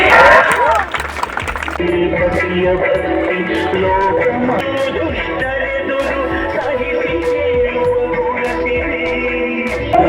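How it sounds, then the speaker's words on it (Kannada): Loud, sustained applause from the audience at a Women's Day celebration event in Yadgiri. The clapping holds steady for the whole stretch, mixed with crowd noise and voices. "ಜೋರಾದ ಚಪ್ಪಾಳೆ ಬರಲಿ ನಮ್ಮ"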